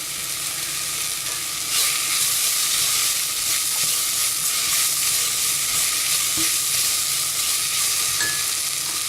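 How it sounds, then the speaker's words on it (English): Leeks fry in a pan with a steady, close sizzle that stays loud and even throughout, with faint stirring scrapes and no talking. "I'm going to fry this until the leeks become soft"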